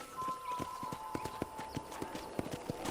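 Horse hooves in Red Dead Redemption: a steady clip-clop of trotting hooves in quick even rhythm, moderately close, with a faint tonal hum running beneath.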